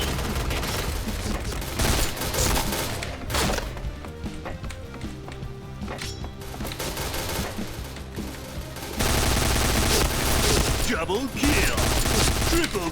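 Bursts of rapid UZI submachine gun fire in a video game rattle almost continuously, loud and close, with a few brief lulls between volleys.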